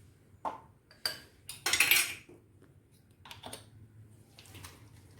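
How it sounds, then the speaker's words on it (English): Waffle batter with a teaspoon of vanilla essence being whisked in a bowl, a few clinking metal-on-bowl strikes and one louder scraping burst, close and without talk. "So we have whisked it well."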